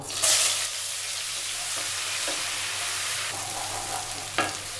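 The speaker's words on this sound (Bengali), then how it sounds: "এটা আমার তেলটা গরম হয়ে গেছে। আমি এর মধ্যে দিয়ে দেব পেঁয়াজ আর রসুন আর আদা একসাথে বেটে রেখেছি।" Ground onion, garlic and ginger paste hitting hot oil in a pan, a loud hissing burst at the start that settles into a steady close sizzle, with a few faint stirring scrapes.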